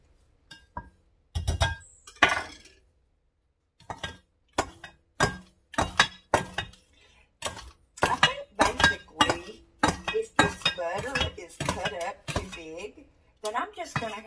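A spoon stirs a blueberry oatmeal bar mixture in a bowl, giving a run of clinks and scrapes, sparse at first and then quicker and denser, with someone talking in between.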